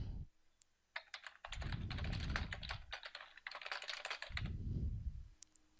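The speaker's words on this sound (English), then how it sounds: "To add my own notes, I can just start typing." Quiet, close keyboard typing in two bursts of rapid key clicks, separated by a short pause.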